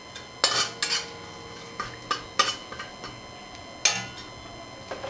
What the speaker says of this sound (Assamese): চেনিখিনি গলি যোৱালৈকে এইখিনি অকণমান লৰাই থাকিম